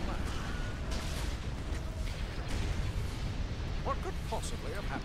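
Ship guns fire at a station in the space strategy game Republic at War, producing a dense continuous rumble of booming blasts and explosions that lasts throughout, with a voice briefly speaking over it.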